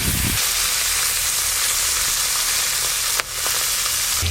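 Food sizzles in a pan with a dense, constant fry hiss at close range, broken only by a short stirring knock near the end, with no voices.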